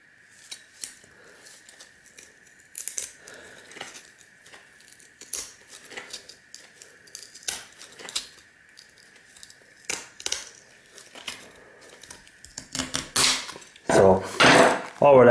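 Shears snip repeatedly along RAM sticks to cut off the gold-bearing chips, giving close, sharp crunching clips in an irregular series, ending in a louder burst of clattering handling.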